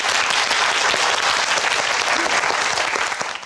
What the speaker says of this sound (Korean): 자, 박수를 청해 보겠습니다.